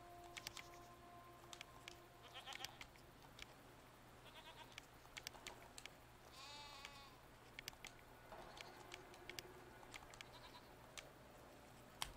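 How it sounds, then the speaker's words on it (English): Goats bleat several times at a moderate distance, quavering calls scattered over a quiet, faintly rustling background with no talk. "They are, in fact, simply goats."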